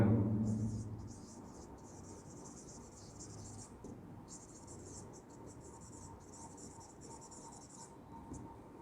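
Writing on a board during a biology lesson on spermatogenesis: continuous scratchy strokes in short runs with brief gaps, fairly faint, following a short burst of voice at the start.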